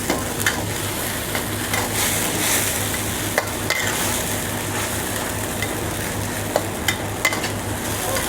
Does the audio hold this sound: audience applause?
no